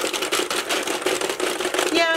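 A Singer knitting machine runs loud and close with a continuous rapid mechanical clatter and whir, steady throughout.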